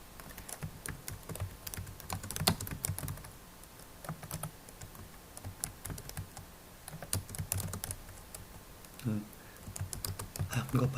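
Steady clicking of fingers typing on a computer keyboard that is not the usual one, quiet and close, with irregular bursts and short pauses, while a person speaks now and then.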